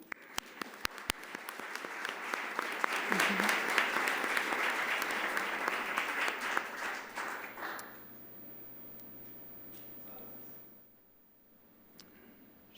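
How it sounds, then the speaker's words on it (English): Audience applause follows a panel discussion on affirmative action. Scattered claps quickly build into full, steady applause that holds for several seconds, then drops away to quiet room tone. "I think that's a round of applause"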